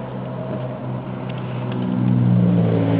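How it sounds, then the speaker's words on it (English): Cars pass along a residential road during a roadside traffic stop, a steady near engine rumble and whoosh that swells louder toward the end, with no talking. "I'm having a hard time hearing you with the cars going by."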